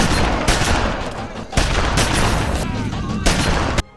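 A rapid burst of film gunfire rings out in a Steven Seagal action movie scene, with loud, repeated shots and booming blasts overlapping continuously for several seconds.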